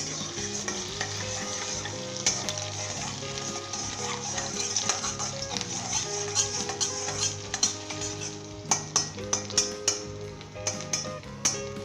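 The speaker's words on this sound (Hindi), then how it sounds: "1 मिनट के लिए फ्राई करना है अदरक को।" Ginger fries in oil over medium heat in a pan, a steady sizzle with a low hum beneath and scattered clicks of a utensil stirring, growing busier toward the end.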